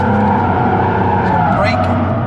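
Car sliding in a drift with opposite lock on a flat track, a loud near engine roar with shifting tone and brief tire noise, under a voice talking.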